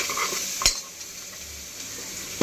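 Tomato being stirred and sautéed with browned onion in a pan, a soft continuous sizzle under two sharp utensil clinks against the pan, one early and one at the end.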